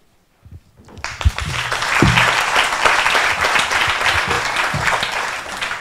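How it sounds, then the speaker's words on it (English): An audience applauds a panel about to discuss ending hunger. After a brief near-silent start, loud, dense clapping swells in around the first second and holds steady to the end, with a few sharper claps standing out near the front. "Please join me in applauding our panel before you even hear them speak."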